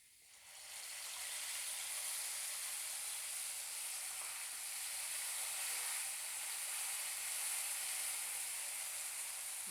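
Ground spice paste hits a pan of frying potatoes, bursting into a loud, bright sizzle that swells within the first second and then holds as a steady, close hiss with no talking.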